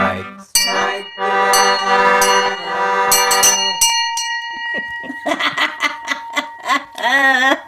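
A ship's bell rings out in a strong, sustained sequence of struck tones over a musical, sung passage, with bright ringing partials that carry loudly before giving way to livelier voices and laughter-like sounds.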